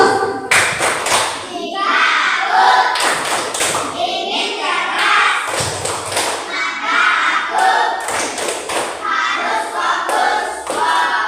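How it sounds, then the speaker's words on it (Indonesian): A group of young children in a classroom claps a rhythmic focus routine together, sharp bursts of claps and slaps in a repeating pattern mixed with children chanting along, close and loud. "Semuanya tepuk fokus."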